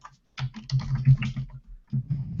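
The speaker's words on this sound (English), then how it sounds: "let me just type it in here" Rapid typing on a computer keyboard, close and fairly loud: a burst of quick clicking keystrokes, a short pause, then a few more keys pressed, with no talking over it.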